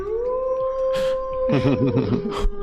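A person imitates a wolf with a drawn-out howl in two rising and falling stretches, fairly loud and close, with no other talk over it.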